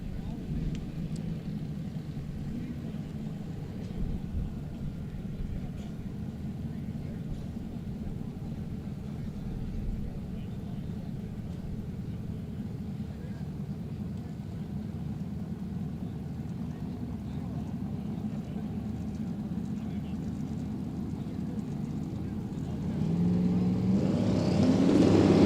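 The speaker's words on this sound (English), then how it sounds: "Earl back in the gas on the Mustang and will wheel it through the top end" A drag-racing Mustang accelerates down the strip at Sick Week 2023, a steady engine rumble running throughout, swelling louder near the end as the car pulls through the top end, with a commentator talking over it.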